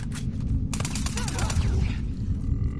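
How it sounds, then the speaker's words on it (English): SMG gunfire in The Last of Us Part II, rapid bursts of shots crackling close, with a voice speaking briefly among them. "I'm gonna use the SMG."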